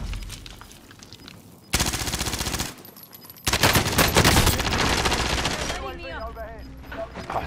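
Video game gunfire from a PKM machine gun rattles in loud, sustained automatic bursts, with two long strings of rapid shots separated by a short pause and a quieter stretch at the start and end.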